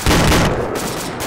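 Loud, close burst of rapid gunfire from the Arma 2 video game, a dense volley of shots filling the moment with no talking.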